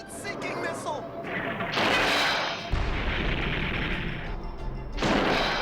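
In a Transformers G1 cartoon, heat-seeking missile shots and explosions rumble and boom in loud, sustained bursts, with whooshing blasts layered over a dense battle soundtrack.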